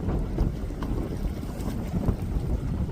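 Strong wind buffets the microphone beside the Hudson River in 29-degree cold, a steady low roar with gusting swells and no voices.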